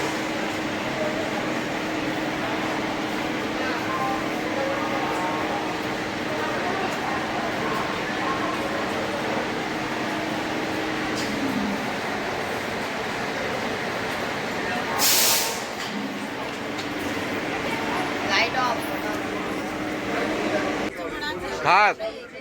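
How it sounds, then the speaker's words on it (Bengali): Tarakeswar local train running out of Howrah, heard from inside the carriage as a steady, loud rumble and rattle that continues for the whole stretch, with a brief hiss near the middle and some clatter toward the end. "তো আমরা হাওড়া থেকে এখন ট্রেনে উঠলাম তারকেশ্বর লোকাল।"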